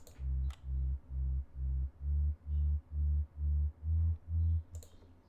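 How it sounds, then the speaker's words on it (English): A deep, rounded sub bass from a Diva synthesizer pulses in about ten even notes, low and smooth, with a few faint clicks on top. "We have a sub part which sounds like this."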